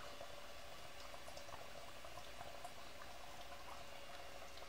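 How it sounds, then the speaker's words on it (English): Chemical reaction foaming and bubbling in a container, a faint continuous fizzing hiss with dense tiny bubble pops, steady and unbroken. "It is certainly foaming."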